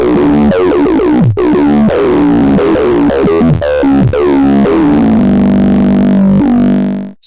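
A synth voice driven hard through the filter drive in the Filterverse plugin growls with dense, buzzing distortion and a sweeping vowel-like tone that settles into a held note, loud and continuous before cutting off abruptly.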